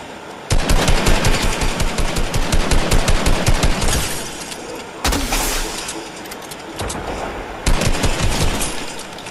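Rapid bursts of automatic gunfire from a video game, loud and close, firing in dense strings with short pauses between volleys and no talking over it.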